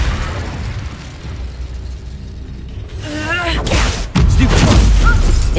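A fire spell cast during combat in Hogwarts Legacy: a rising whoosh with a sudden loud fiery burst near the end, over busy game sounds and effects.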